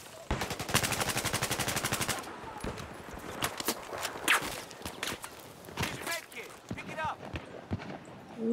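Rapid machine gun fire in a Battlefield 4 team deathmatch on Operation Mortar, with a fast steady burst up front followed by scattered shots and impacts while someone talks over the action.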